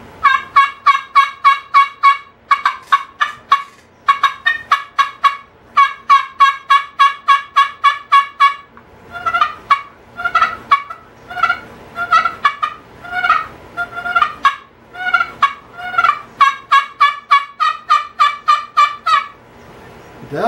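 A slate turkey call is worked in rapid runs of sharp, raspy yelps imitating a wild turkey, loud and close, in steady rhythmic strings with brief pauses between sequences.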